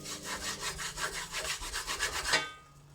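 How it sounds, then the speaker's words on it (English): A stick rubs rhythmically across a pan to lift burnt, charcoaled bits, about a dozen quick rasping strokes close up before it stops. "Gotta rub the pan sometimes with the stick."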